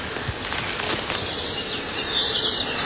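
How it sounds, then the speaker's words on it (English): Scratchy, rasping song of an aquatic warbler close by outdoors, a dense buzzy chatter running steadily through the whole stretch over broadband background noise, with no talking. "I am approaching the aquatic warbler, which is in the vicinity from here, one of our emblematic birds."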